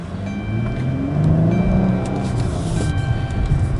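A Chrysler 300C John Varvatos Special Edition with a 3.6L 24-valve V6 engine revs steadily and loudly close by, a continuous low engine drone swelling slightly in the middle and holding high throughout.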